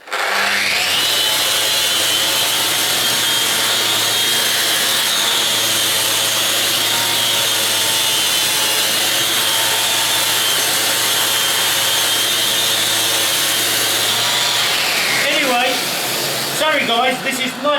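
Random orbital sander running on wood with an Abranet mesh sanding disc, a steady loud whirring drone with grinding surface friction for about fifteen seconds before spinning down, followed by brief knocks.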